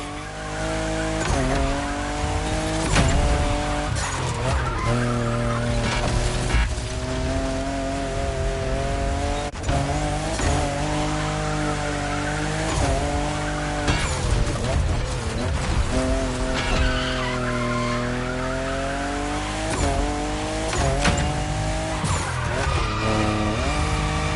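A fifth-generation Toyota Supra drives hard in The Crew Motorfest, its engine whining and shifting pitch under constant loud tire squeal and skidding, with a voice talking over the driving throughout.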